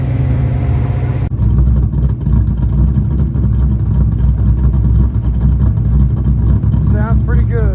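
A car engine with custom tail pipes rumbles loudly and steadily close by, with a deep throaty exhaust tone, then revs briefly near the end.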